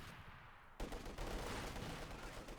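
A field gun fires in Company of Heroes 2, one sudden heavy blast followed by a dense rumbling wash of battle noise, fairly loud against a quieter buzz just before.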